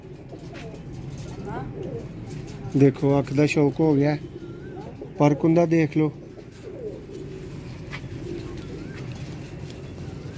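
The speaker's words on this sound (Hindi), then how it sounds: "24 नंबर बटेरा कबूतर है।" A Batera pigeon coos in two clear bursts of rapid, throaty, rolling calls, close by, while someone talks over a faint background hum.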